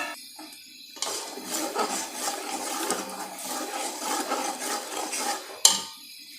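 Chicken is stirred into spiced masala in a pot for homemade chicken korma, with a sizzle and scraping strokes that pulse unevenly after a brief quiet start and end with a sharp utensil knock.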